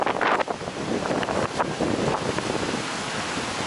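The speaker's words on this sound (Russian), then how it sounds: "Ветер уже шквалистый." Strong gusty wind on the Baltic Sea coast at Svetlogorsk buffets the microphone in loud roaring bursts, with a broad rushing wash of surf behind it and no talking.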